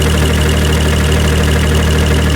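A car engine idles steadily right after its thermostat has opened, a continuous low rumble with a slight knocking texture that stays loud and close, with no voices over it.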